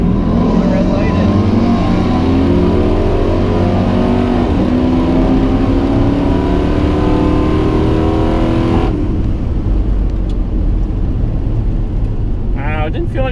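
A Dodge Dakota R/T pickup truck accelerates hard down a drag strip with overdrive off. The loud, close engine roar climbs steadily in pitch before dropping away sharply near the end.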